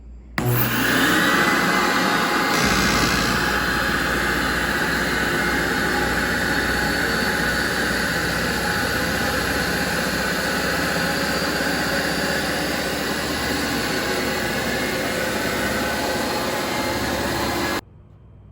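A Rug Doctor carpet cleaning machine switches on and runs with a loud, steady, high-pitched motor whine and rushing suction roar, holding evenly for about fifteen seconds before cutting off abruptly.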